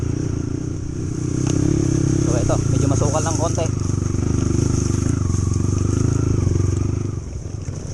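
A dirt bike motorcycle rides a rough, overgrown gravel trail toward a camping site, its engine droning steadily and close with rattling clatter throughout, while someone talks over the noise.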